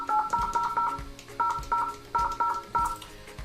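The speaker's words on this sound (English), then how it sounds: "Okay, so I'll dial the same number." Dialing tones from a Poly Elara 60 desk phone for Microsoft Teams, a quick run of clear beeps in two rhythmic groups, moderately loud and close.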